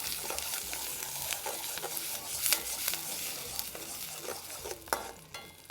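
A Birmingham balti curry sizzles hard in a pan while being stirred, with steady frying hiss and frequent clattering scrapes of the utensil, close and fairly loud without speech.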